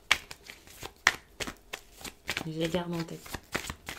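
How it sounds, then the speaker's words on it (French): Tarot cards are shuffled by hand in a run of quick riffling and slapping flicks, fairly close, while someone speaks French over them. "quand je bats les cartes"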